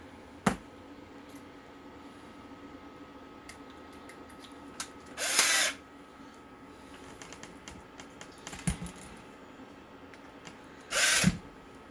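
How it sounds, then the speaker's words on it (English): Two short, loud bursts of a power drill whirring as it drives out screws from a toy RC truck transmission, spaced apart, with scattered clicks and clatter of screws and handling in between. "do this with my drill to make it go faster."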